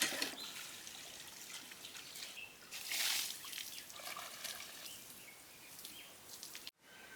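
Cut raw green plantain being rinsed in water, with soft splashing and trickling, a brief louder swish midway, quiet and close.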